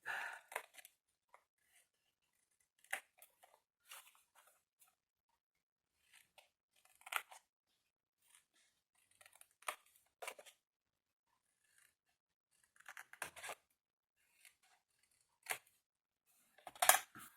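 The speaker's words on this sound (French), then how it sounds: "Une fois que vous avez raccourci vos onglets, vous les épointez." Scissors snipping the tips of shortened paper tabs during a clock-and-keychain craft step: scattered soft, close snips and light paper crunches in near silence, irregular and quiet.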